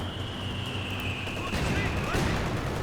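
MG34 or MG42 machine gun fire in Company of Heroes 2, dense rattling bursts mixed with distant battlefield booms and a high whine, loud and continuous with no talk over it.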